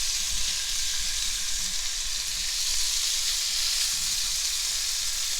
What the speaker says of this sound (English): So I am going to fry this, and I'm not going to put a lot of oil